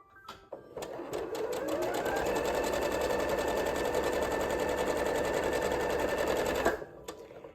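A sewing machine runs a continuous seam along the other side of a stitched project, a steady fast mechanical whir with a few clicks at start and finish, close and loud.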